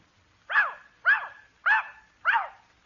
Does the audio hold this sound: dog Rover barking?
yes